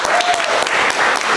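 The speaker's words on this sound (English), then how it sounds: "Let's give a round of applause to Catherine in the house who checked you in." An improv comedy show audience breaks into dense, loud applause, a brief burst of many hands clapping together from a crowd close by.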